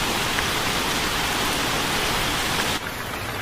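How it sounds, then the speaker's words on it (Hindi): Heavy rain falls as a dense, steady hiss of drops that fills the whole soundscape and eases slightly near the end, with no voices. "बारिश अब तेज हो चुकी थी।"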